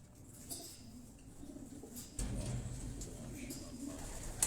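Racing pigeon squab, a young bird in moult kept in a loft in Quetta, cooing softly in low murmuring bursts close by, with a faint background rumble and no talk.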